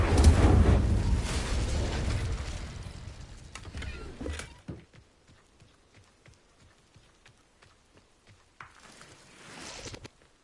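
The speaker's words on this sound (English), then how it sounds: "Incendio" A fire spell is cast in Hogwarts Legacy as a loud roaring whoosh that fades over about four seconds. Faint scattered clicks follow, then a soft swell near the end.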